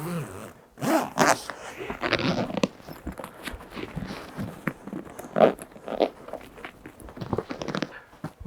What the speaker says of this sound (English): Make sure the zipper's straight and get it started, and then usually you can get it.